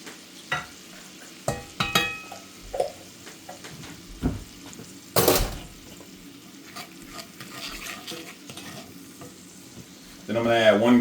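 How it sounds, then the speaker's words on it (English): Minced garlic hitting hot oil in a pan for garlic rice noodles, a sharp sizzle burst midway among scattered spoon scrapes and stirring clicks, quiet between strokes, with a louder sizzle swelling at the end; no talking. "Now I'm going to add 1 tablespoon of minced garlic."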